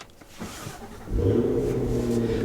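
A 2025 Cadillac Escalade V's supercharged V8 cranks and fires, jumping from a quiet cabin into a loud, deep, steady idle rumble close by.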